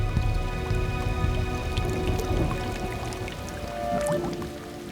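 Heavy rain falls steadily on soil outdoors, a dense, continuous patter of drops with scattered louder splashes and drips, close and fairly loud throughout with no voices.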